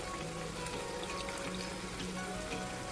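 A pot of water boils for red sauce pasta, giving a steady, even bubbling hiss that runs unbroken from start to finish with no talking.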